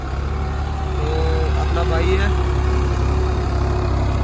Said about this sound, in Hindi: ट्रैक्टर भी चढ़ चुका है